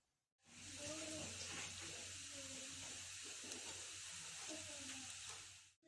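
Sliced onions frying in oil in a pan over a low flame until golden brown give a steady, close, even sizzle and hiss that runs unbroken for several seconds, with faint tonal sounds rising now and then above it.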